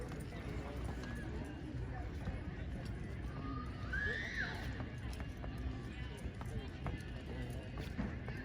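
Heavyweight draft horses of around 2,000 to 2,500 pounds at an evening horse pull, hooves clopping on the ground with a brief whinny, heard beneath an announcer's voice and crowd murmur.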